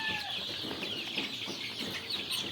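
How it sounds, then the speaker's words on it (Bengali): Egyptian farm chicken chicks, 40 to 45 days old, cluck and chirp faintly among steady broadband farm noise, with no voices. "যারা মিশরীয় ফার্মি মুরগির বাচ্চা খুঁজতেছেন"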